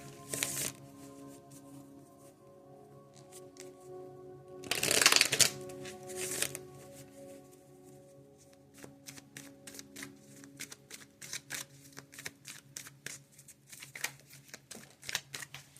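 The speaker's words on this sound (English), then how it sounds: "let me go ahead and start shuffling" Tarot cards riffle and shuffle close up, with a loud burst of shuffling midway followed by a run of quick, crisp card snaps.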